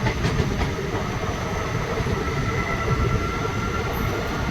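The Maa Tara Express on the Rampurhat–Sealdah line pulling away from Bolpur station, heard from inside a carriage as a steady rumbling roar of wheels and rails with faint clatter, no talk.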